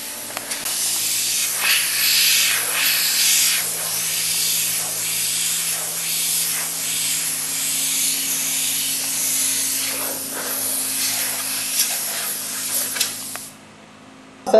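An airbrush sprays transparent yellow paint in a steady, close hiss that runs almost without a break for about thirteen seconds, then cuts off near the end.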